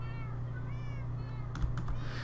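Cats in the video game Minecraft meow softly over a steady low hum, with several faint drawn-out mews followed by a few clicks near the end.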